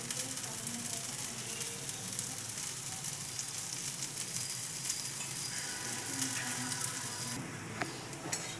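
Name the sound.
oil sizzling on a hot pan for dosa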